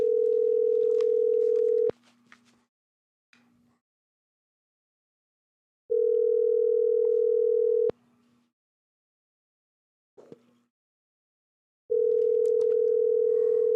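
A telephone line rings out while a call is being placed, with three steady two-second tones spaced about four seconds apart and faint clicks and rustles in the quiet gaps.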